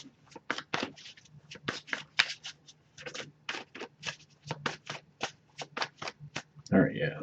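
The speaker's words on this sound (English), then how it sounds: "I'll give it a few more shuffles." Tarot cards shuffled by hand in quick rhythmic bursts of crisp riffling, close and fairly quiet, with a voice speaking briefly near the end.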